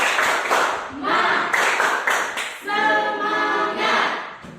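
Classroom of students doing the "tepuk semangat" clapping game, bursts of rhythmic group claps in patterned runs, broken by a short shouted chant from the class.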